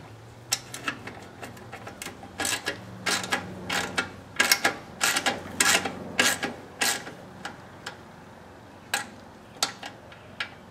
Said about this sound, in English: I'm going to go ahead and remove the bolts holding the fuel tank on, and they are an 8mm. I'm using my 1/4" drive socket.